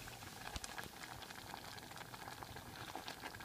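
Corn grits simmer in a pot on the stove, bubbling and popping in a continuous soft patter that stays close and even the whole time, with no voices over it.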